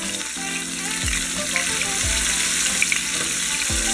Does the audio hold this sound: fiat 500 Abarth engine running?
no